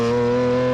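A 2014 Lamborghini Aventador LP700-4 with a V12 and an aftermarket exhaust holds a loud, steady, deep engine drone for under a second, then cuts off abruptly.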